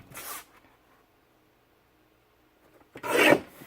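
A paper trimmer slices cardstock for a scrapbook page kit, with two short scraping strokes of the blade separated by a few seconds of quiet.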